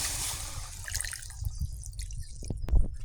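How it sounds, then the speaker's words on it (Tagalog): Water pours and splashes into a pan of onion, garlic and tilapia close by, a sloshing liquid sound that thins out into a few drips. "Lagyan na natin ang tubig."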